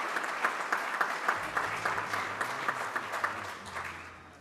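An audience gives a moderate, steady round of applause. The clapping comes with a few sharper individual claps and a low hum running beneath it, then tapers slightly near the end.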